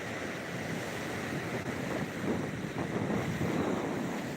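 Rough sea at Digha beach at night makes a continuous roar of surf and breaking waves. Wind buffets the microphone throughout, and the churning grows louder toward the end.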